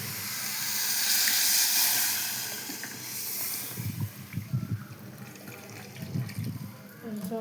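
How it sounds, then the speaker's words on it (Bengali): Water splashes into an egg and potato curry sizzling in hot oil, a bright hiss rising and then giving way to bubbling and stirring clatter near the microphone. "এরপর আমি জল দেবো।"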